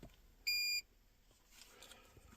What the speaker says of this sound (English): Okay, so there's your beep.